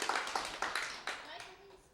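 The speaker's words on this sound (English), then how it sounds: "Let's give him a big round of applause and thank him for being here" An audience at the Inspired Word Cafe applauding a guest, a brief wash of clapping that fades while people talk over it.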